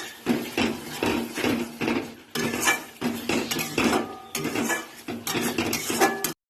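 Spice masala being sautéed in a pan for a Bengali jackfruit and prawn curry, with a spatula repeatedly scraping and clanking against the metal in steady bursts, close and fairly loud, with brief pauses between strokes.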